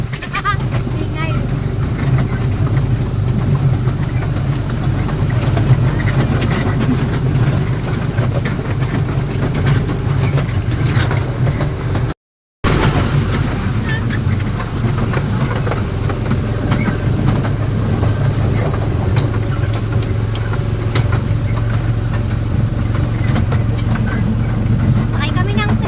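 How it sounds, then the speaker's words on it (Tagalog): Steady loud rumble of a train carrying riders toward Wulai, Taiwan, with continuous low wheel and engine drone, faint rattling on top and voices talking throughout; the noise drops out briefly midway. "Sakay kami ng train papuntang Wulay."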